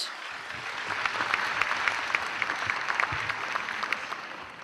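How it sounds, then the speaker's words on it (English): Sustained applause from an audience at an award presentation, as an honorary shield is handed over at an international conference in Pakistan, with dense steady clapping filling the whole stretch. "A big round of applause, everyone."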